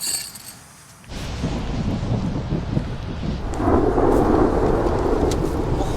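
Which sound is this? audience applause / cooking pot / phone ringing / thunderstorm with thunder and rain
thunderstorm with thunder and rain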